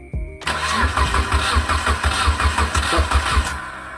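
A turbocharged Mitsubishi Lancer 4B11 engine cranks briefly, catches and settles into a rough, loud idle with uneven pulses, heard close up with no talking.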